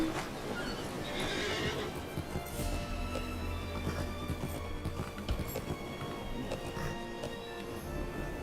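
A horse whinnies amid rhythmic hoofbeat clip-clops and busy background sound effects in Lord of the Rings Online, fairly faint and continuous.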